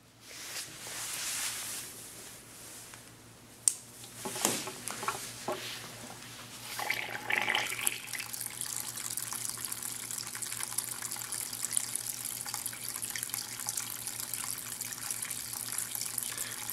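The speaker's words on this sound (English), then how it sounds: "Watch as the water flows around the stream and see what happens to those houses." Water running through a sand stream table model of a meandering river, a steady broadband trickle and gush that starts softly and then flows continuously after a brief clunk, with no voices.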